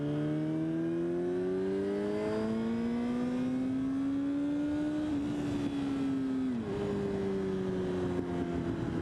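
A 2007 Yamaha R6S sport bike engine hums steadily as it rides on back roads on a blustery day, its pitch rising slowly, then dropping sharply through a gear shift before settling again; wind rushes continuously underneath, and no one talks.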